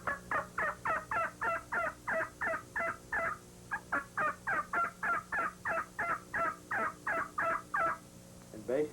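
Turkey call imitating an old hen's assembly call, a long run of rhythmic, evenly spaced yelps, loud and close, with one brief pause partway through.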